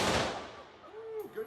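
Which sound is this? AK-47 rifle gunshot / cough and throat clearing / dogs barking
AK-47 rifle gunshot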